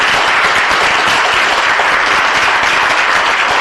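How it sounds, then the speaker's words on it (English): Loud, dense applause filling a city council meeting chamber, continuous and even from start to finish with no voices over it. "So that deserves a huge round of applause for these young ladies."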